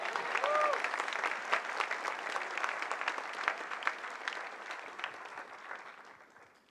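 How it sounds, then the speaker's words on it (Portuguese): Church congregation applauding during a service, loud clapping from many hands with a brief voice at the start, gradually fading over several seconds. "Aplauda o Espírito Santo, está aqui falando com a gente."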